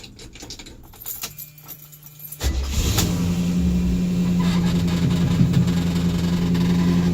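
Keys jangle, then a 1981 Chevy GMC C3500 dually flatbed dump truck's small-block 350 engine cranks and catches, settling into a steady, rumbling idle.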